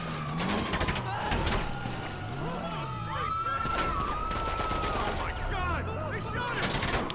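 Gunfire from GTA Online in a city alleyway, heard as several sharp shots scattered through a steady din of game ambience, with a siren-like tone gliding along underneath.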